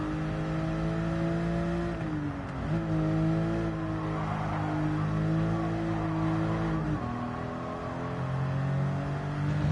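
A 1995 Porsche 911 Carrera RS (993) engine drones loud and close in a racing game, holding a steady pitch with a few quick gear-change dips and recoveries.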